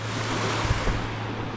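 Sea waves washing onto a shallow beach, a steady broad rush of surf with wind buffeting the microphone, loud and close, no voices.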